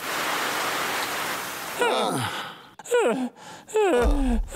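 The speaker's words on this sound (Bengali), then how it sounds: "খুবই জোরে বৃষ্টি পড়তাছে" Heavy rain pours in a Bengali cartoon as a steady, dense hiss, then gasping, breathy voices cut in over the downpour in short bursts.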